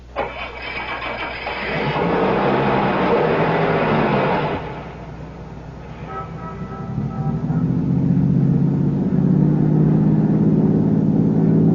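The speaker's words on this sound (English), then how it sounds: "Start the car." An engine cranks and catches, then runs with a rising hum that settles into a steady, loud drone as the vehicle drives on.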